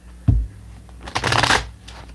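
A deck of tarot cards is riffled and shuffled up close, a sharp tap followed by a brisk, fluttering burst of cards that lasts about half a second and then trails off.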